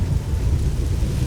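A thunderstorm rolls over Leyawiin in the game Oblivion, a deep, continuous rumble of thunder under a wash of steady rain, loud and sustained through the short stretch with no talk.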